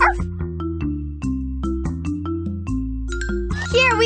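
A cartoon puppy barks in the Dora the Explorer game Find Those Puppies, a brief yip near the end over loud, bouncy game music with chiming notes.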